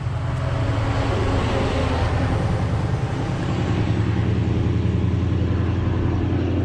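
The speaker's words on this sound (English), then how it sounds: "Jesus, that's a loud truck." A loud, heavily tuned truck rumbles past a 1986 Porsche 911 special widebody by Elmerhaus, its deep engine drone steady and close for the whole stretch with no speech over it.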